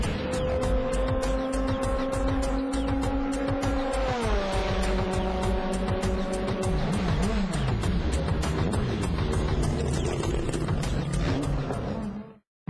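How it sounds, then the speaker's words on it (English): A Nismo GT500 GT-R race car from the Super GT series running demonstration laps, its engine droning loudly and steadily, pitch shifting as it accelerates and passes, with a final cut to silence. "The car then put on some demonstration laps before being put on display with the other race cars."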